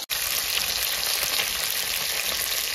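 Saltwater fish frying gently in hot oil, a steady dense sizzle that holds even and close throughout after a brief gap at the very start, with no voices.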